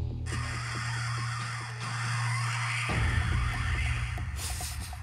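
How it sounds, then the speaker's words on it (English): Recorded killer whale sound played from a shark-repellent device, a steady low droning hum with rough, rattling texture that shifts into a harsher, louder buzz partway through, heard in air rather than underwater. "This is the noise of a killer whale sound."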